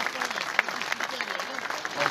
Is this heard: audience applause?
yes